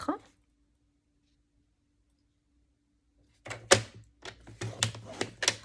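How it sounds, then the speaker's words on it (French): Paper being scored along fold lines with a tool for a handmade mini album and box: after a brief sound and a long quiet stretch, a close run of sharp clicks and short scraping strokes over a low hum. "Pour mon deuxième morceau, je vais venir faire une marque de pli à 11 cm."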